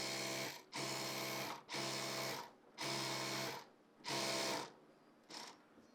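A sewing machine stitching seams on a flared kalidar palazzo, running in five or six short, rapid bursts of whirring needle strokes separated by brief pauses, close and clear with no talk.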